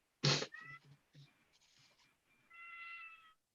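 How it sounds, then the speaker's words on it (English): A house cat yells with several loud, close meows in quick succession, ending in a longer drawn-out cry during a Zoom call. "my cat's yelling at me."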